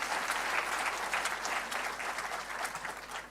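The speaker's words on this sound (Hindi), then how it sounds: "अनइंस्टॉल डन, ताली बजाओ।" Audience applause at a Brahma Kumaris spiritual talk in New Delhi: a dense, steady wash of many hands clapping, fairly loud and continuous throughout with no talk over it.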